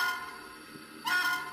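A Baltimore & Ohio EM-1 N scale model steam locomotive gives a short, faint electronic whistle toot near the end, over a quiet steady background hiss.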